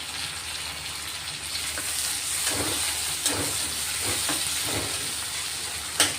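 Finely chopped tomato hits a hot pan of okra being dry-fried, setting off a continuous hissing sizzle with soft stirring scrapes and a sharp clink near the end.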